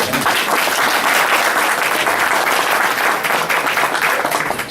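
Loud, continuous audience applause at an evening charity event for a heart foundation, a thick, even roar of many people clapping together throughout.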